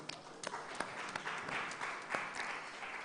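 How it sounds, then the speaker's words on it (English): A small audience at an agriculture-focused conference applauds a new panelist, with scattered distinct claps swelling into a light, fairly quiet round of clapping that holds steady to the end. "A round of applause for him too."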